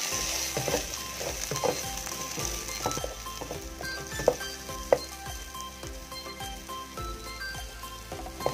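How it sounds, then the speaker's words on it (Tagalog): Rice sautéing in a hot pan gives a steady close sizzle, broken by scraping stirs and a few sharp clicks of a utensil against the pan. "So isusutay lang din natin yung ating rice for about a minute."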